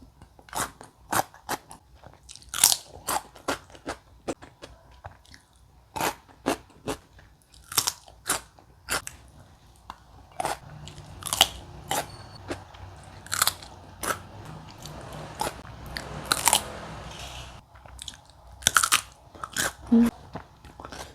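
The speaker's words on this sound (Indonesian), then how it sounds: "Ini timun organik, renyah banget, kandungan air banyak, enak, manis." Crisp bites and crunchy chewing of a fresh organic cucumber, many sharp close-up crunches in irregular succession, loud and near, with quiet background noise between bites.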